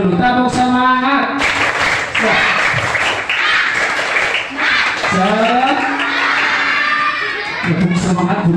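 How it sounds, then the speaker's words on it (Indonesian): Children at an Isra Mi'raj gathering perform a rhythmic 'tepuk semangat' clapping chant, loud group clapping mixed with chanting and shouting voices, close and continuous, with an adult voice leading in places. "Sebelum kita lanjutkan, coba kita tepuk semangat dulu."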